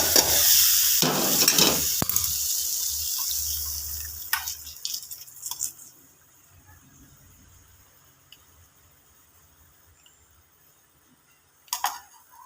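Chili powder is stirred into a mustard-seed tempering in hot oil for Kerala-style coconut moru curry, making a loud crackling sizzle at first that fades into quieter scattered stirring clicks and pops, with a brief louder burst near the end.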